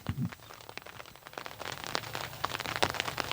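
Heavy rain pours outdoors in big drops, a dense, loud patter of hits on surfaces with scattered sharper drop impacts, steady throughout with no talking.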